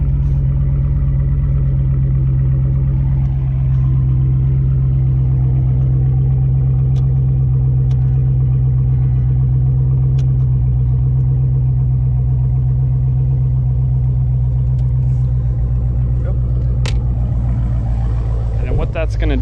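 Steady low rumble of a Dodge Charger 392 with its 6.4L V8 and E85 package idling after the fuel pump relay is pulled, loud and constant throughout, with someone talking over it.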